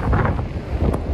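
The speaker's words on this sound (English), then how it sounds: "I don't know if you can see how windy it is." Strong wind on South Padre Island gusts across the microphone in loud, buffeting low rushes, with a faint surf-like wash beneath and no speech.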